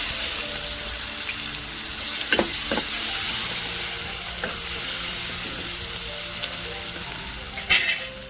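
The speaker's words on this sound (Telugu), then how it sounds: "వడియాలు ఈ రకంగా ఈ కలర్ వచ్చేదాకా వేయించుకోవాలి" Vadiyalu, sun-dried lentil crisps, fry in hot oil in a pan with a loud, continuous bubbling sizzle, broken by a few sharp stirring clinks and one bright crackle near the end, close by and without voices.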